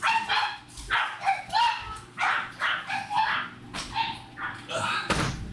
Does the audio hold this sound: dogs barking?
yes